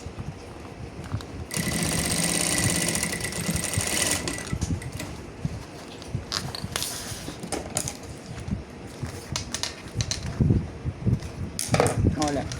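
A sewing machine stitches a traditional toiletry bag, running in a steady loud burst, then continuing in shorter stop-start runs with a backstitch, with handling clicks in between.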